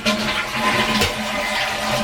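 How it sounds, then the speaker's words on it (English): A toilet flushes close by, a steady rushing gurgle of draining water that carries on evenly for about two seconds, with nothing else over it. "flush the toilet"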